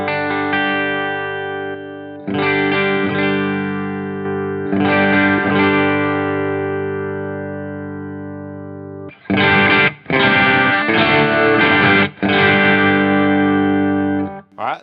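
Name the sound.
low gain electric guitar with black op drive on Headrush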